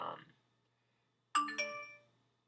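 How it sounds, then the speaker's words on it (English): Phone notification sound: a short chime of two bright tones ringing out cleanly after a faint trailing voice, then fading into quiet. "sorry, that was my phone."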